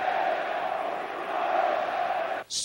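Corinthians football fans fill a stadium with a steady, loud roar of massed voices that holds evenly before cutting off abruptly near the end.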